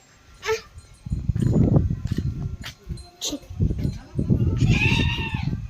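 Goats bleat several times at close range amid rustling and scuffling, with a person's voice calling out briefly in between.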